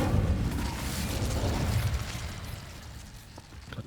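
An Incendio fire spell bursts in the video game Hogwarts Legacy, a broad rushing whoosh of flame that is loud at first and then fades away.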